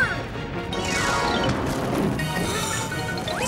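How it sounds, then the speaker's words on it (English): A cartoon crash effect plays as a statue cracks and breaks away from an icy mountain, a loud sustained rumbling smash with sweeping crumbling tones and no voices. "The ice is splitting the rock! Ah, the statue's breaking away from the mountain!"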